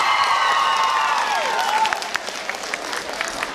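Applause and cheering from the audience at a Romanian high school freshman ball, a dense crowd sound that is loudest at the start and thins into scattered claps and shouts.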